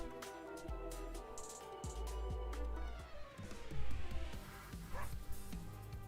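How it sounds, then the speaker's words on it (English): A Volt Pup creature in a video game barks and yips in short bursts over a layered electronic game soundtrack, the dog-like calls recurring every second or so at moderate loudness. "There's a Volt Pup."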